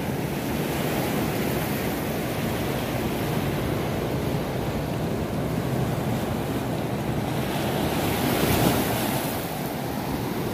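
Loud, continuous crashing and washing surf of ocean waves at Pacar beach in Tulungagung, with wind rumbling against the microphone and a swell in the roar near the end.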